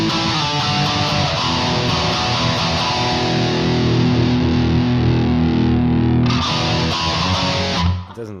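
An electric guitar played with distortion rings out in loud, thick, sustained power chords, one chord changing partway through before cutting off at the end, with no talk over it.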